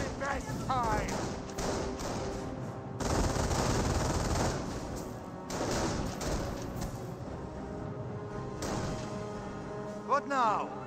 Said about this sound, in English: And now we've got the MG42 advancing.